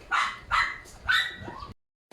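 A puppy barks three times in quick succession, close and fairly loud, followed by a short whimpering yelp before the sound cuts out.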